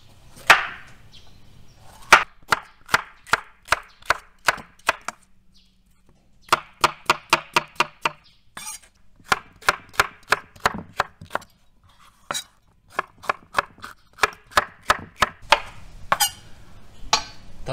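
Knife chopping ingredients for chicken kazan kebab on a cutting board, a series of quick, sharp, evenly spaced strikes in bursts with brief pauses, close and clear with no talking.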